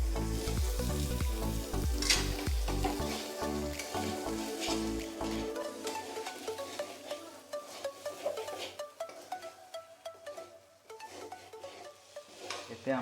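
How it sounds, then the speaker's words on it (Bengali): Washed, drained aromatic rice frying in a pan for chicken tehari, sizzling steadily and close with scraping stirs and clanks from a utensil. "আমরা এই চালটাকে ভালোভাবে ভাজবো"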